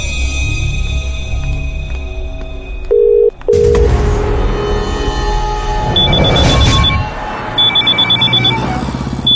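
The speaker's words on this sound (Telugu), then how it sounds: "కొత్త ఫోన్ ఫస్ట్ కాల్ రా." A new mobile phone ringing with its first call, electronic ring tones sounding loud and close in repeated bursts, mixed with a sharp beep and a rumbling jolt midway.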